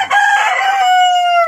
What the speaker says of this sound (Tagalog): Ito yung aking Chinese chicken